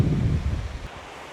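Wind gusting and sea surf at a hilltop temple beside the sea in Hua Hin, a low rushing roar that is loud at first, then eases to a softer steady hiss.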